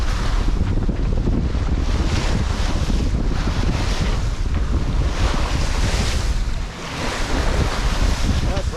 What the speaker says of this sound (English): The waves are pretty good.